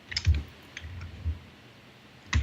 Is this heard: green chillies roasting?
no